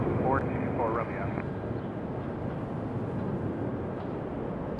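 A FedEx aircraft at Raleigh-Durham airport gives a steady, distant jet rumble that continues evenly, with a brief bit of speech near the start.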